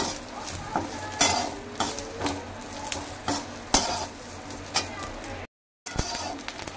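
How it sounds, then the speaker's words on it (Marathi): Fresh coconut roasting in oil in a kadai, soft sizzling under repeated spoon scrapes against the metal pan, close by, with a brief dropout near the end. "आता आपण थोडंसं हलकं हलकं लाल होईपर्यंत खोबरं भाजून घ्यायचं आहे"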